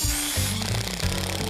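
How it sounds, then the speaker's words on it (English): A generator runs steadily on a backyard construction site in a Spanish-style courtyard, a loud continuous mechanical drone with a low rumble and rattling, close by and alone. "Here's the sound of a generator in your head all day."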